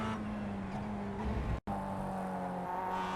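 Mazda MX-5 race car in iRacing, its engine droning steadily with a tonal whine before a brief cut around the midpoint as it shifts down, then resuming at similar level; no talk.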